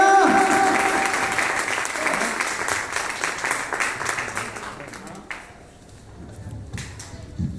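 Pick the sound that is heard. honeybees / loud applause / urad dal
loud applause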